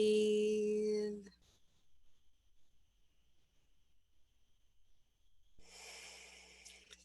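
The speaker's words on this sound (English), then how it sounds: "Take a breath." Slow, deep breaths during meditation, a long exhale fading out, then a quiet stretch before another breath drawn in, close and soft.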